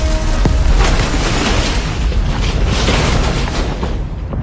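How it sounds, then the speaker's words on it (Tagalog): A loud explosion sound effect booming out from a burning roadside eatery, a sustained heavy roar with dense low rumble that stays intense for the whole stretch without letup. "isang napakalakas na pagsabog ang umalingaw-ngaw mula sa karinderya"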